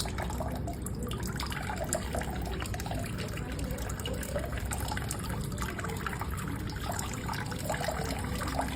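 Bleaching powder is poured slowly into water for chlorinating a crab farming tank, producing a steady, quiet trickling and dripping wash with no clear pauses.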